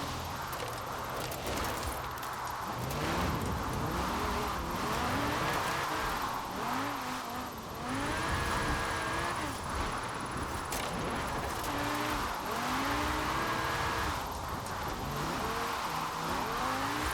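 An Audi RS6 drifting in Forza Horizon 4, its engine note constantly rising and falling as revs swing through slides, with tyre squeal woven in, sustained and fairly close throughout.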